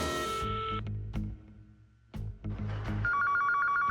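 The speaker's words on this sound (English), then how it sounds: "Don't worry, I got a phone. Let's give him a ring." A cartoon telephone bell rings in short bursts separated by brief pauses, then turns into a steadier, higher electronic trill toward the end, loud and close with no talk.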